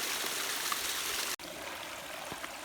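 Continuous rushing water from Gleason Brook and a small waterfall on Vermont's Long Trail, steady and close, with a brief dropout midway.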